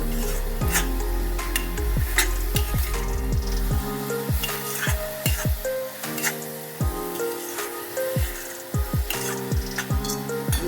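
Cashews fry in hot oil in a pan for carrot halwa, sizzling close and steady, with sharp scraping and stirring strokes of a spoon repeating against the pan.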